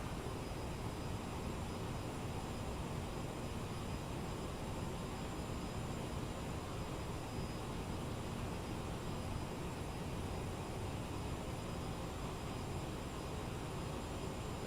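Simulated CRJ900 jet engines spool up with a little throttle in a flight simulator, a steady broadband roar and whine holding constant and moderately loud throughout, with no voices.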